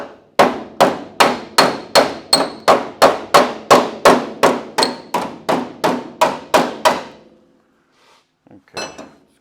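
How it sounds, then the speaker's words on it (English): A hammer beats sheet metal on a 1951 Ford truck cab, about sixteen hard, evenly spaced ringing blows, loud and close, then a pause and a few faint clanks. "I like to use a real hammer and get the job done."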